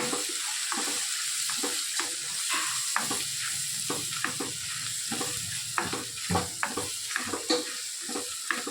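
Spice masala with kasuri methi, salt and seeds roasting in oil, a steady close sizzle with repeated scraping stirs of a spoon in the pan, no talk.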